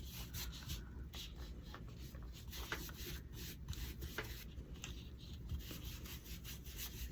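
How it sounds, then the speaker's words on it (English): Wax being rubbed by hand along the sides and top of a wooden 2x4 craft piece, a steady close scratchy rubbing and friction sound that continues throughout with short strokes. "Rub in some of this wax."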